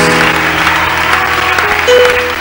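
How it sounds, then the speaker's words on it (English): A congregation claps for Jesus during a church service, dense steady applause mixed with sustained music tones underneath, loud and close throughout. "Clap your hands for Jesus."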